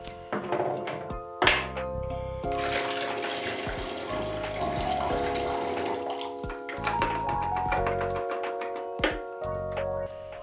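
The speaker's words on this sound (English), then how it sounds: "I also pour the fixing solution back in its dedicated container to reuse it later." Film fixing solution is poured back into its container at home, a liquid gurgle with a few hollow thunks from the vessels, over soft background music.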